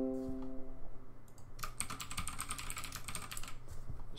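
Quick keystrokes on a computer keyboard while entering a username during a Windows Thin PC installation in VirtualBox, a brief flurry of close, light clicks following a low startup tone.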